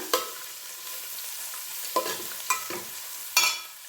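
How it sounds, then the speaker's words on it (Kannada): Rice mixture with turmeric being stirred in a hot pan, several separate scraping strokes with a light sizzle beneath, close and fairly quiet, with no one speaking. "ಚೆನ್ನಾಗೆ ಮಿಕ್ಸ್ ಮಾಡೋಣ"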